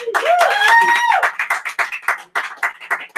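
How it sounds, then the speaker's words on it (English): Three fans clap inside O'Hanlon's Pub in New York City: a brief raised vocal whoop opens, then a run of sharp, irregular handclaps from a small group, close and distinct, with gaps between bursts. "We have 3 fans who are clapping for us very loudly."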